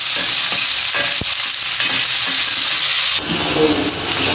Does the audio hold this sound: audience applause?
no